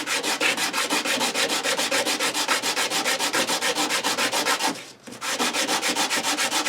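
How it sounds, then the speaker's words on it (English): Sandpaper laid flat rasps against a guitar nut on a Japanese hollow body guitar in steady, rapid back-and-forth strokes, loud and close, with one brief pause before the rhythm resumes. "I'm just going to sand on this nut and get it to be smaller."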